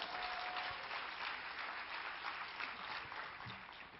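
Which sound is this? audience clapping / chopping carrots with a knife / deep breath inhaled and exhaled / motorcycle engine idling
audience clapping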